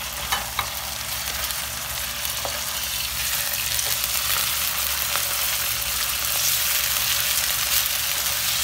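Chicken fries with garlic and onion in a pan, giving a loud continuous sizzle with scattered crackles and light stirring scrapes throughout, no one speaking.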